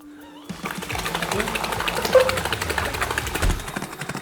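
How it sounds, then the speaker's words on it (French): A cheap mini washing machine bought from Temu runs with a steady, rattling mechanical whir and rhythmic churning that sounds loud and close. "Bon, on va laisser tourner la machine et on se retrouve quand c'est propre."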